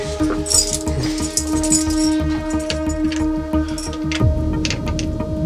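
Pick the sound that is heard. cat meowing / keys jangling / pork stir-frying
keys jangling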